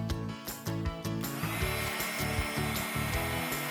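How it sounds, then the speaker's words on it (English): Heat tool whirring steadily at close range while hardening polymer clay hair on a custom pony figure, a continuous loud blowing drone with a motor hum and slight wavering in pitch, no talking. "we're going to harden the clay using a heat tool."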